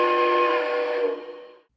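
A Lionel Vision Line Triplex model steam locomotive sounds one steady, loud chord on its whistle. It holds for over a second and then fades quickly to silence, with no other sounds around it.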